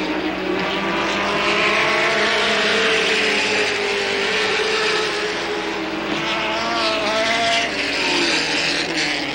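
Late model stock cars in a 1985 Capital Late Models feature race roar around the track in a loud, continuous, overlapping engine drone, with pitch shifting slightly as the pack passes, with no voices.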